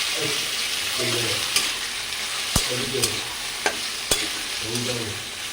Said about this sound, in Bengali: প্রথমে আমি কড়াই তেলটা দিয়ে দিয়েছি, এবার দিয়ে দেবো ঝিঙে আলু ভাজাটা